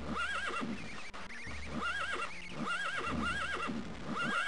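A horse in the game TES: Daggerfall neighs repeatedly, loud whinnies recurring in a steady loop over a low rumbling bed, with no talk.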